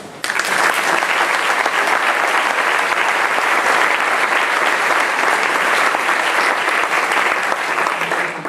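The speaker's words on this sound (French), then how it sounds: "je vous propose qu'on vous applaudisse tous." Audience at an academic back-to-school ceremony clapping, dense and sustained applause lasting the whole stretch after a brief start, steady and fairly loud, with no one speaking over it.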